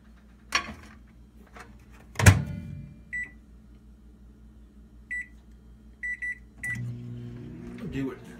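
A microwave oven reheating fries for a burger gives several short electronic beeps as buttons are pressed, then a door thud and the low steady hum of the oven starting up.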